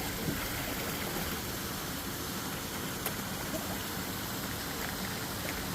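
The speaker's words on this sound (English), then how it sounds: "And over there's the grotto, the big waterfall." Big waterfall in the grotto at an aquarium shop, a steady, fairly soft rushing hiss of falling water heard throughout with no talk.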